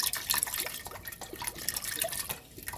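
Swanson's low sodium chicken broth, a 48-ounce carton, poured steadily into a cooking pot, a continuous liquid splash and trickle with small drips, close and alone with no talk.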